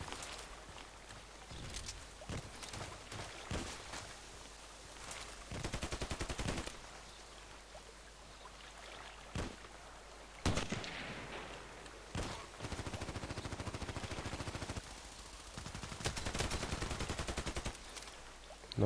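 Gunfire in the online shooter Contract Wars: dense bursts of automatic weapon fire with single shots between, loud and close, coming in repeated volleys and sustained stretches over roughly nineteen seconds, no talking.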